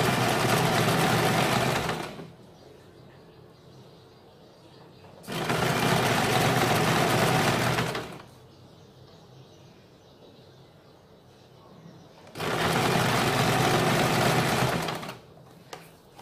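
A sewing machine stitches along the edge of a kurti in three loud, steady runs of a few seconds each, with quiet pauses between them.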